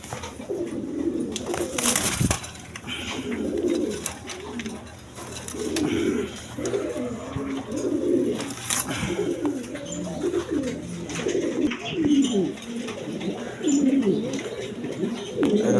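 Pigeons coo continuously in a close group, with repeated low throaty coo phrases rolling one after another and an occasional sharp knock; someone talks briefly amid the cooing.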